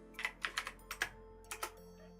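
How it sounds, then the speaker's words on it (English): A failing computer keyboard typed on in short bursts, about ten quick clicky keystrokes close to the mic in a quiet room. "My keyboard is slowly dying."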